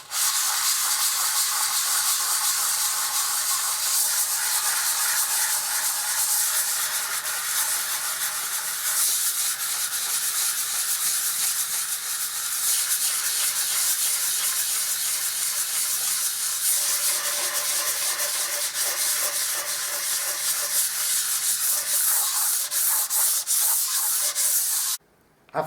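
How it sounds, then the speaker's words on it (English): Fine 180 to 240 grit sandpaper on a block rubs over filled paint patches on a wall in a continuous, even hissing scrape, close and steady with no voices. "Got some fine sandpaper on a block. 180, 240, something like that. And just rub over these."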